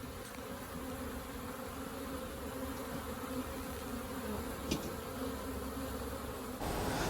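A dense, steady hum of many honey bees buzzing at beehives in Latvia, continuous and even, with no voices.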